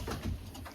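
Racing pigeons in a loft give a soft, low coo that rises and falls over a moment. The sound is faint and close, with no voices.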